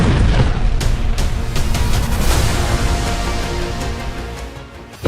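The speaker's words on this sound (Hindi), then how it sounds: "धमाका नंबर 3, धमाका नंबर 4, धमाका नंबर 5 और धमाका नंबर 6।" Loud explosions in a Middle East war zone involving Israel, a heavy booming blast at the start that fades into a long rumbling decay, with another sharp hit at the very end.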